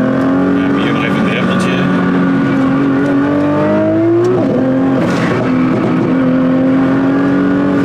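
A 1400 hp Nissan GT-R engine drones loudly from inside the cabin, its pitch climbing steadily then dropping and settling again as the car accelerates, with people talking over the engine.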